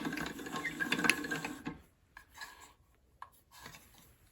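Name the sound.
pasta machine rolling out fettuccine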